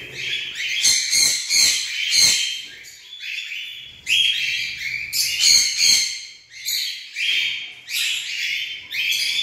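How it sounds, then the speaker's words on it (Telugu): African lovebirds and cockatiels in a breeding colony chirp and squawk loudly in repeated shrill bursts, a dense and continuous chorus close by with short gaps between calls and no talking. "African love birds cocktail eggs పెట్టిన పాట్లోకి వెళ్ళి అక్కడ అవి డిస్టర్బ్ చేస్తున్నాయి"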